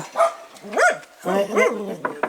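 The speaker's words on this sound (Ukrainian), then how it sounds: "собак приблудних у нас тут. По 20 штук живе ось." Several stray dogs barking and yipping in a war-damaged village, with a few sharp barks in quick succession, fairly close and loud, and some whimpering tones between the barks.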